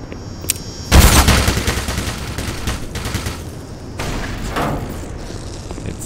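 Grenade blast and gunfire against a turret in Half-Life: Black Mesa: a loud sudden burst of shots and a boom, followed by a long rumbling tail that rises again near the end.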